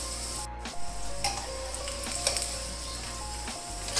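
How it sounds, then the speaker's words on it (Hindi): A layered lachha paratha frying in a pan, giving a steady, close sizzle that holds evenly throughout, with a few light clinks of utensils. "ये वाली साइड जो है इसको भी अच्छी तरह हम तकरीबन 20 से 25 सेकंड के लिए अच्छी तरह फ्राई कर लेंगे"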